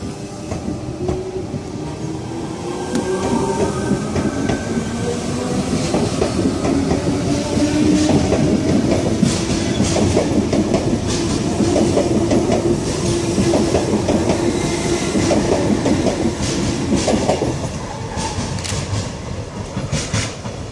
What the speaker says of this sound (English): train now departing for a Waterfall service